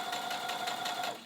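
A sewing machine running a straight stitch along a serged edge makes a quick, steady rhythmic chatter of needle strokes. It is fairly faint, brief and heard alone.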